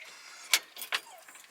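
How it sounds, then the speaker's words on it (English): Car keys jangle in a few brief metallic bursts beside a 1957 GMC truck, close and fairly quiet, with a short pause between clusters. "Gotta get my keys out."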